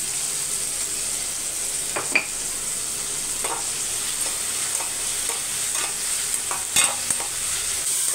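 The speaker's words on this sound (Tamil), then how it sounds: "தக்காளி கொஞ்சம் வதங்கி வரட்டும்." Tomatoes sautéing in a pan for radish sambar, a soft continuous sizzle with irregular spoon scrapes and taps spread through, close and unhurried, no voices.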